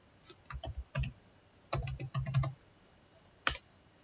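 Typing on a computer keyboard while entering a company name for a Facebook page username check, heard as short bursts of quick key clicks with pauses between, then a single final tap, close and clear with no talking.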